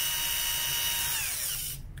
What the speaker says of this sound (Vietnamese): Dùng để khoan, có khoan búa thì chúng ta khoan tường nọ được anh em.